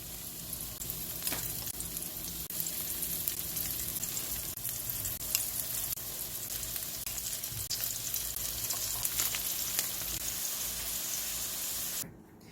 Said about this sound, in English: Put the heat on medium and add just a little bit of oil, and you want to add your squash.